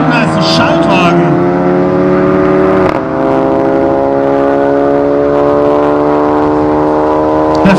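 A BMW E38 and a Golf 7 GTI launch in a quarter-mile drag race at Aldenhoven, engines roaring and climbing in pitch through the gears, loud and near, with a voice talking over the noise.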